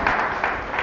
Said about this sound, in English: Give a clap of praise for Jesus.